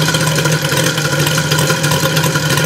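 A repaired Mitsubishi Evo engine idles close by, steady and smooth with a loud even hum and no pauses, after an ignition unit fix.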